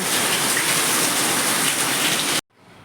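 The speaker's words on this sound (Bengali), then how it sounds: "তাহলে কি মুষলধারে বৃষ্টিটা হচ্ছে ভাবতে পারছো" Heavy monsoon downpour pounding down steadily as a loud, dense wash of rain that cuts off abruptly near the end, leaving a quiet tail.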